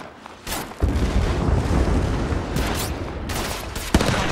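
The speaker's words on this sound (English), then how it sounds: "Getting shot at." Gunfire in the mobile shooter Apex Legends Mobile, rapid overlapping rifle bursts and booming impacts filling most of the stretch, loud and continuous with a few sharper cracks.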